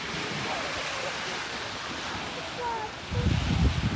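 Waves wash steadily onto the beach at Khao Lak, a broad even surf hiss with some wind noise, and a heavier rumble toward the end.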